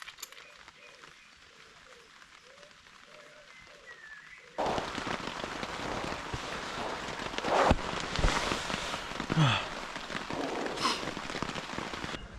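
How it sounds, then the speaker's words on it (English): Rain falling on a tent in woodland during an overnight bushcraft camp, quiet at first and then a sudden loud, dense patter on the fabric that continues steadily to the end, with a few faint birdlike chirps. "It rained a lot. Quite nice to listen to, actually."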